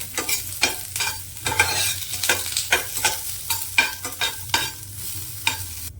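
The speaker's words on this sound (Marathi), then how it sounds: "थोडस तेल घालते अगदी थोडस घातले कांदा भाजण्यापुरतं" Chopped onion frying in a small amount of oil, with loud, close sizzling broken by repeated sharp scrapes and clacks of a spoon stirring the pan at an irregular rhythm, no voices.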